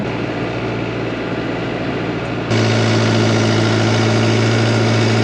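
A tractor engine cultivating a potato field idles and runs with a constant low drone, stepping up louder and fuller partway through, close and steady.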